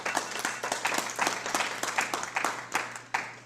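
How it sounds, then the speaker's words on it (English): Audience at a rail summit conference applauding, a steady patter of many hands clapping at moderate distance, fairly soft and even throughout with no speech over it. "Again, thank you for your applause"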